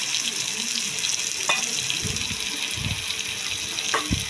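Running tap water splashing while a plate and bowl are rinsed in a kitchen sink, a steady close rush with a few knocks and clinks of dishes, no talking.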